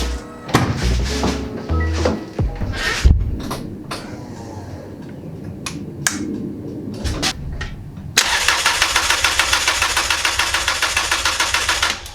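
A Subaru GC8 rally car engine with a new Walbro fuel pump cranks without catching: scattered clunks and a brief whir, then a loud, rhythmic starter grind churning on and on without firing.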